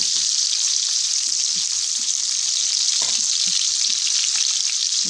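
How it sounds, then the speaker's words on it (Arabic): Kofta meatballs coated in flour frying in hot oil, a dense, steady crackling sizzle that runs without pause, close and loud, with faint clinks now and then and no talking. "نبتدي تحمير بقى"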